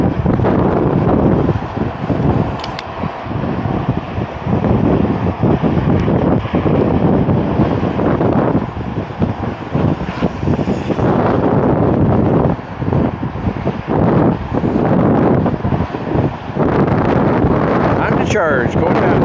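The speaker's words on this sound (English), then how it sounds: "getting gusty up here" Gusty wind on an elevated causeway between Safety Harbor and Tampa roars and buffets a microphone loudly and continuously, with people talking over it.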